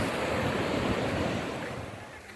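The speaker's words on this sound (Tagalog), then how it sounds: "Tabing dagat." Sea waves breaking on the shore at Laiya, Batangas, a steady broadband surf wash with wind rumble, fairly close and continuous, slowly easing in loudness.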